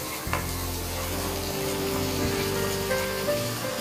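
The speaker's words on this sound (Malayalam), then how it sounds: "അപ്പോൾ സോസേജും കുരുമുളക് പൊടി, വെളുത്തുള്ളി, സവാള എല്ലാം എണ്ണയിലാണെന്നിങ്ങനെ മൂക്കുകയാണ്" Sausage, black pepper powder, garlic and onion sauté in hot oil, giving a steady close sizzle with light stirring throughout.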